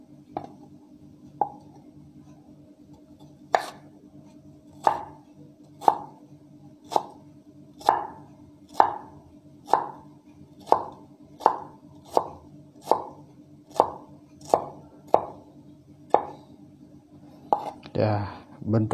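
A knife chopping vegetables into brunoise cubes on a cutting board, sharp evenly spaced cuts about one per second, close and clear against a quiet background.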